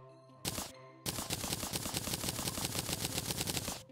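Rapid, evenly spaced crafting clicks from Terraria while making gems and jewels, a brief burst then a long machine-gun-like rattle, loud and dry with no talk.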